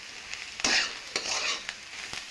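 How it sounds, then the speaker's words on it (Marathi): Egg bhurji with egg pieces and salt is stirred and sautéed in a hot pan. A constant sizzle is broken by several distinct scraping stir strokes, close and fairly loud, with no voices. "हे सर्व छान असं परतून घेऊयात."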